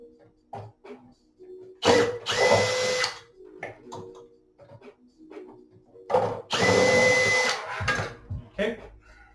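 A power drill removes screws from the cage of a Derby Owners Club arcade cabinet, two loud whirring bursts of a few seconds each, separated by quieter clicks and handling noise, with a voice talking between them.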